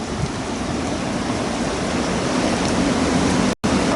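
Heavy rain pouring steadily after a storm with strong wind, a dense continuous hiss close to the microphone that cuts out for a split second near the end.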